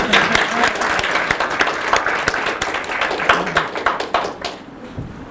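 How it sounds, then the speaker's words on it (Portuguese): Steady audience applause with dense, continuous hand-clapping throughout, loud and near, as a crowd keeps clapping for several seconds before it begins to thin at the end. "Esse cara merece mais aplauso"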